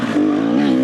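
A 2-stroke dirt bike engine lugs in a higher gear up a steep trail, a loud, close, steady low drone with a slight rise in pitch and no pauses.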